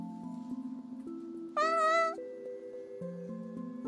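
A cartoonish cat meow from the video game Calico rings out once, bright and close, over a steady hum of game music with a soft melodic line.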